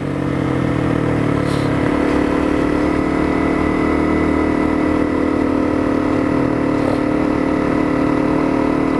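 Honda CRF250L dual sport motorcycle engine pulling hard up a steep hill climb on a trail ride, a loud, steady, close engine drone that holds throughout with no talk.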